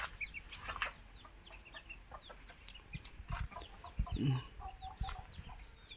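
Chickens cluck and chirp in a farm chicken shed on a coconut farm, a busy, fairly faint scatter of short calls with a louder squawk partway through and no talk.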